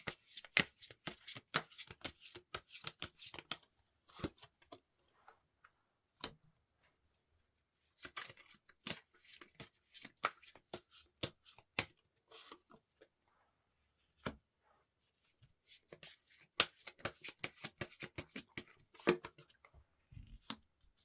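Tarot cards are shuffled close by in repeated quick bursts of papery riffling and slapping, with brief quiet pauses between rounds and no one talking.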